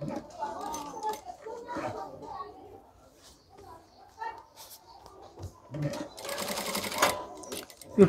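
A tailor's sewing machine stitches a juwari coat in short intermittent bursts, the longest near the end, with a voice talking quietly between runs.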